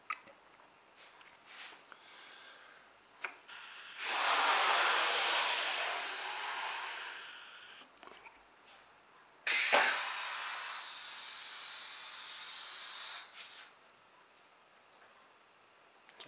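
Air from an inflated balloon on a homemade CD hovercraft rushes out in two sustained, fairly loud hissing bursts of several seconds each, with faint small clicks and quiet gaps around them.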